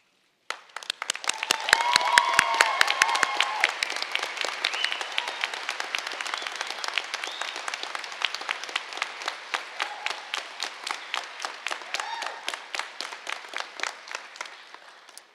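A commencement crowd at a 2018 Front Range Community College graduation applauds, first in a busy burst mixed with a few cheers and whoops, then thinning into a loose, slowing patter of individual claps before stopping.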